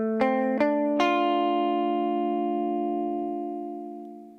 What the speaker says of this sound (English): First you'll hear it dry, and then the blue track here is the one with the tilt on it.